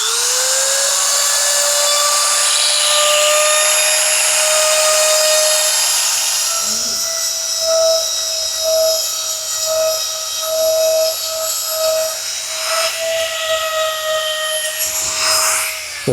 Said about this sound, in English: I'm going to use a Dremel tool with a stone